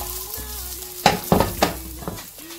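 Garlic clove and onion sautéing in a pan, a steady close sizzle with several louder spattering bursts and light stirring scrapes, no voices.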